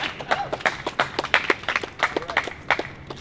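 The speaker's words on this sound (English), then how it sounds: "Clap it up." Crowd clapping at a campus rally where a delegation presents petitions to the CCNY president. Distinct, uneven handclaps from a modest group come close and crisp in loose bursts, with faint voices mixed in underneath.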